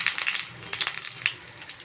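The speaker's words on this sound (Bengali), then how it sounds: "এবার আমি দেব কড়াইতে জিরে ফোড়ন বা সর্ষে ফোড়ন দিলেও হয় আর দেবো একটা শুকনো লঙ্কা ফোড়ন" Cumin seeds and a dried chilli tempering in hot oil in a wok, crackling and popping with sharp, bright spits over a steady sizzle, close and alone.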